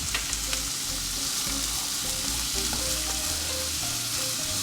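Chopped onions fry in a pan for Egg Manchurian, a steady close sizzle broken by scraping and clinking as a spoon stirs them at a regular pace, with no voices.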